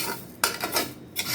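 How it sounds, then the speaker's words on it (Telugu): Moong dal dry-roasting in a pan without oil or ghee rustles and scrapes as a spoon stirs it, with a few sharper clinks against the metal over about a second. "ఉట్టిగినే వేయించుకోవాలండి. కొంచెం వేయనండి పెసరపప్పు."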